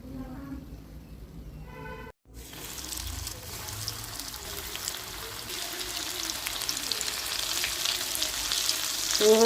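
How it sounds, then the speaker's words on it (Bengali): Fish fingers frying in hot oil over medium-high heat, a continuous close sizzle and crackle that grows steadily louder after a brief pause near the start. "তো এইভাবে সব কটা বানিয়ে ভেজে নেব গোল্ডেন ব্রাউন করে।"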